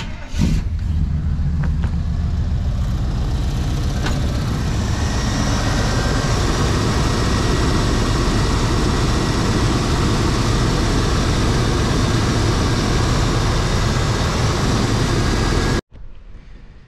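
A 1992 Chevy C1500 pickup engine, freshly fitted with a new power steering pump, cranks over and settles into a steady, loud, continuous idle close by, running on alone before cutting off abruptly near the end.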